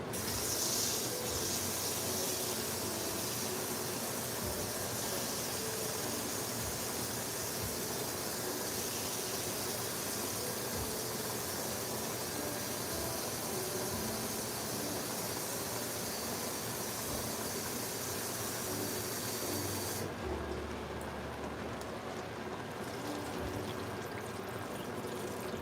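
Water pours steadily into a pot for a chicken and veggie stew, giving a long continuous hissing splash that changes tone near the end and then stops.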